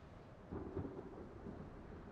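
Thunderstorm weather in the naval battle game World of Warships: a low rumble of thunder swells briefly, then settles into a steady wash of rain-like noise, moderately faint throughout.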